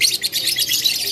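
Lokbat birds with red markings chirp at a kiosk in Pramuka bird market, giving quick, bright, close tweets that continue steadily without pause.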